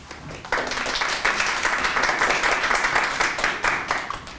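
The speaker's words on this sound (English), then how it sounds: "You should probably wait on the applause." A crowd bursts into applause, dense and steady clapping that holds at a strong level for several seconds.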